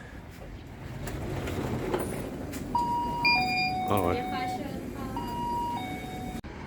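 The electronic door chime of a 7-Eleven shop rings a short descending melody of clear tones over a murmur of store ambience, with a brief spoken remark near the start.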